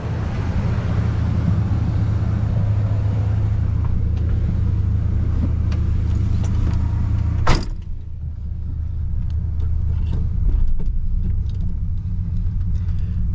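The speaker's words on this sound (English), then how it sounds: "We are going on a test drive in the 71 Deville." A 1971 Cadillac Deville rolls along on a test drive, its engine a steady, loud low rumble with road noise throughout and one sharp knock partway through.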